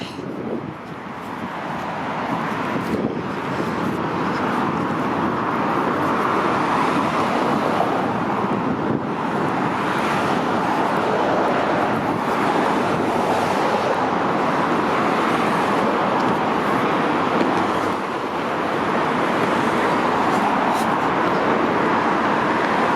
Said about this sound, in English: Let's see how many cars are gonna rev up their engines